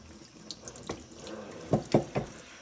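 Water from a tap splashes over a household fan being rinsed clean, running quietly with a few sharper splashing bursts near the end, with no voices.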